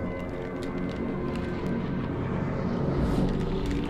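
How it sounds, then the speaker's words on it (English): Aircraft roar in Call of Duty Vanguard as a group of planes flies in, a steady loud droning engine noise that swells slightly near the end with no talking over it. "Got a bunch of planes coming in."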